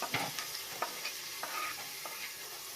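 Chopped tomatoes stirred into roasted onions in a pan with a spoon, a few scraping strokes over a steady soft sizzle, close and without talk.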